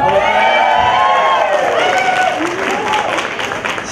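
A large crowd at a stage celebration in Thailand cheers, whoops and applauds loudly and steadily, the roar continuous and close, with shouted voices rising above the clapping.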